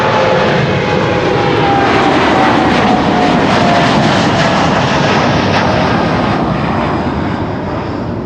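An airliner on flight 393 to Bonaire roars loudly and steadily at Amsterdam Schiphol, a broad continuous engine rush with a faint tonal whine running under it throughout.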